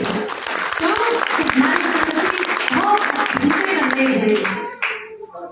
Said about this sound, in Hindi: मैं एक बार अपने भाई के लिए तालियों से स्वागत करना चाहती हूँ